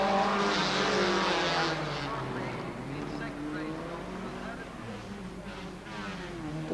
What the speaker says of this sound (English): Haddon's Darling picks up a stylish win in the Radio 2 Classics race in his Lotus 11